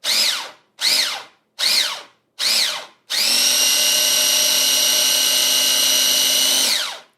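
A small mini food processor chopping herbs, first four short motor pulses that rise and fall in pitch, then one long continuous high whirring run that cuts off cleanly, loud and close with no talking.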